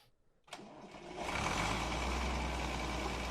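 Tractor engine in Farming Simulator 19 starts up with a short burst, then settles into a loud, steady, close rumble that holds without letup.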